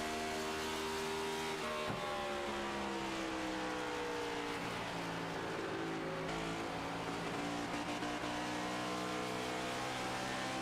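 Race car engines from a stock car racing video game at virtual Nashville Superspeedway drone steadily, their pitches gliding as cars pass, forming a continuous loud pack of engine noise with no talking.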